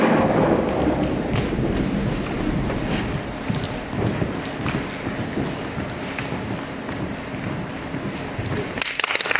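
A stage thunderstorm effect for a King Lear production: a dense, steady roar of wind and rain-like rumble with low thunder swells, loud and continuous, with no voices over it.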